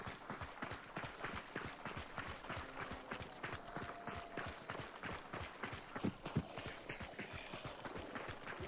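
Rapid, steady hoofbeats of a galloping horse in Hunt: Showdown, a quick rhythmic drumming that continues evenly throughout, with no talk.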